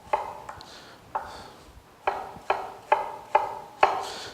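A knife dicing potatoes on a cutting board, a steady series of close, crisp chops that grow firmer and quicker toward the end, alone.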